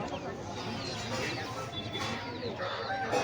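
Hens cluck and a rooster calls among a noisy flock of large Aseel chickens at a Sunday market, with faint voices murmuring in the background.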